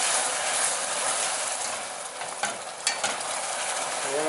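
Salted caramel syrup with cream being stirred in a pan over low heat gives a steady bubbling sizzle, with a few scraping clicks of the utensil near the middle and no voices.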